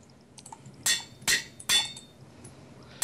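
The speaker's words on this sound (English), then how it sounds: "A diamond-tipped hammer." A diamond-tipped hammer in modded Minecraft lands four sharp, bright metallic clinks at roughly even intervals, each a crisp ringing strike over a quiet background.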